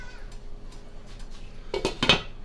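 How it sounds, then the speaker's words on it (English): A metal lid set onto a cooking pot while a fish stew cooks, giving two quick clanks near the end after a quiet, faintly noisy kitchen stretch. "So now I'm going to put the lid on"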